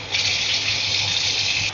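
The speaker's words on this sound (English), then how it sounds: "Then I'm going to put enough water to cover all of it." Steady gush of water pouring into a cooking pot over beets and beef for borscht, a constant close hiss that cuts off at the end.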